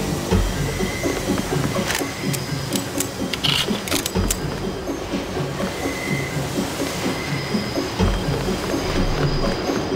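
A train in the Deus Ex video game, headed to Hell's Kitchen, rumbles loudly and continuously, with rattling carriage noise and sharp metallic clicks and squeals over the steady drone.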